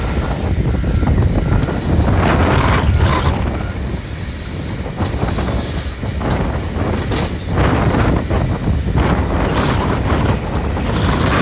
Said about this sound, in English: man, oh man, is it windy.